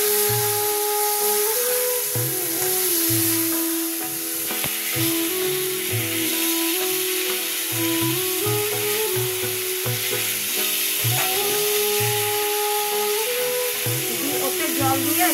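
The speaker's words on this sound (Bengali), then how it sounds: "জিরে, ধনে, পেঁয়াজ, আদা বাটা দিয়ে এবার মশলা দিয়ে কষাবো।" Cumin, coriander, onion and ginger paste fry with spices in a pan, giving a steady sizzle with stirring scrapes, while a voice talks over the cooking.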